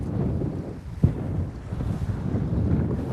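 Wind gusts across open water on Lake Erie as heard from a fishing boat, with steady, close rumbling wind buffeting the microphone and a brief thump near the start; no talking.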